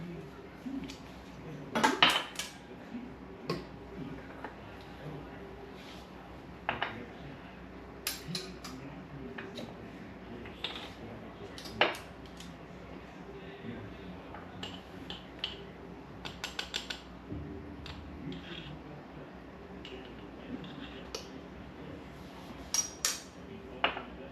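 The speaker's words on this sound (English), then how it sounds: "Give that a quick little mix." A utensil scrapes and clinks against a bowl as dry cookie ingredients, including salt and baking powder, are mixed quickly, giving irregular sharp taps and rattles at moderate level with no talk.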